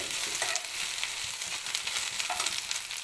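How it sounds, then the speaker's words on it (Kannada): Okra sizzling steadily in a pan as it fries for a simple home-style dish, a dense continuous crackle with occasional stirring scrapes, close and fairly loud, no talking. "ಫ್ರೈ ಮಾಡುವಾಗ ಲೋಳಿ ಎಲ್ಲ ಹೋಯ್ತು"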